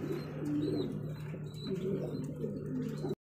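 Pigeons coo and murmur continuously in a crowded pigeon market, with a steady low hum and occasional soft chirps close by.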